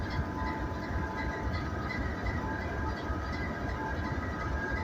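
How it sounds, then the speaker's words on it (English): Locomotive cooling fans run in a rail yard, a steady, dense mechanical roar that holds constant without breaks or voices. "You can hear the fans turning up there"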